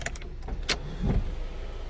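A brief electric sunroof motor whirs in a quiet Audi A4 2.0 Quattro interior, with a couple of faint clicks before it.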